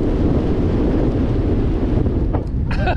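Strong spring wind buffets the microphone of a bicycle rider crossing the Żuławy lowlands, a loud continuous rumbling roar with a few brief higher tones near the end.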